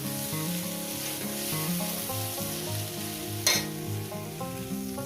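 Bitter gourd and pumpkin pieces frying in a pan, with a continuous sizzle and occasional stirring scrapes, close and steady, with background music playing underneath.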